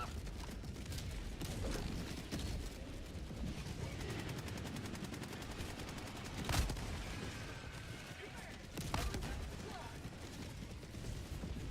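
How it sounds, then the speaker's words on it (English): Orbital barrage explosions in Helldivers 2 rumble and crackle as dense rapid gunfire-like bursts, with two sharper, louder blasts standing out above a continuous low roar. "Orbital barrage incoming. Stand clear."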